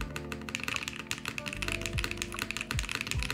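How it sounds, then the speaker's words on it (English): Typing on the spacebar of a Bauer Lite prototype mechanical keyboard: a run of close, crisp clicks and taps with a few deeper, muted thocks near the end, all over a low background hum. "Do you guys think the spacebar sounds a little bit dead?"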